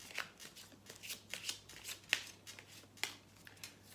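Angel oracle cards are shuffled for a reading, giving a run of soft, quick riffling snaps and flicks with a few sharper slaps, close and fairly quiet with no speech.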